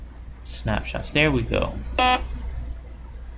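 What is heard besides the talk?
Foscam IP camera alarm sound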